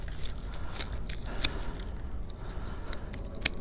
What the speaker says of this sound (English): cut that one off right there